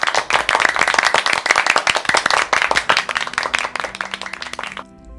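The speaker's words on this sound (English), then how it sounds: "give yourself a round of applause" A round of applause in a children's science lesson: brisk, close clapping from a few pairs of hands in quick uneven rhythm, stopping abruptly near the end.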